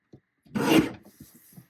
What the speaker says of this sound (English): We'll trim this horizontally at 8 and 4.